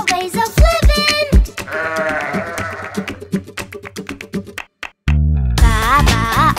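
Sheep bleating in a children's nursery rhyme: loud, repeated bleats and sung phrases over bright music, followed by a short pause and then a wavering sustained bleat.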